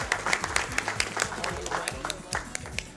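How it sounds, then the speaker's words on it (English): Audience applause during a Rolled Out! speedrun at a gaming marathon event, a steady patter of clapping with some crowd noise under a speaking voice. "Now you can clap."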